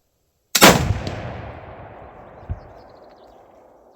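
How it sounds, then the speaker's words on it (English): Mosin rifle fitted with an AKRS muzzle device fires after a hang fire, one sharp loud shot followed by a long decaying echo and a smaller thump about two seconds later. "I got hang fires. Maybe you heard it click. A little bit later, it fires."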